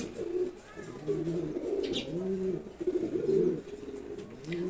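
Pigeons cooing close by, soft repeated throaty coos overlapping in a steady rhythm over a faint background hiss.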